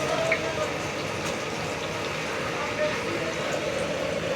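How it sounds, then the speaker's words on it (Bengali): Eggplant fritters (beguni) frying in oil give a steady, dense hiss and crackle throughout, continuous and fairly close, with a busy background. "এখন বেগুনি ভাজা চলছে।"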